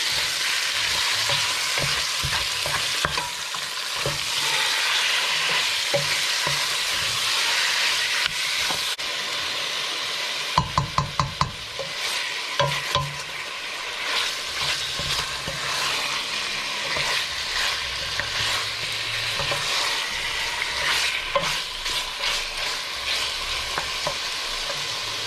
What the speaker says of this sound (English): And we're just going to fry that meat